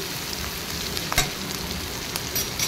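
Onions, chillies and curry leaves fry in a pan in a soft, steady sizzle, with one brief clink of a utensil partway through.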